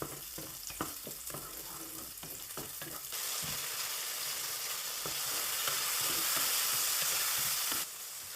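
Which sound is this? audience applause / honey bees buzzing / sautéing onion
sautéing onion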